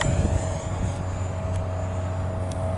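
A Freewing AL37 twin-engine RC model plane flies past, giving off a steady motor drone with a faint high whine. The sound carries at a moderate distance, stays constant throughout, and plays alone without talk.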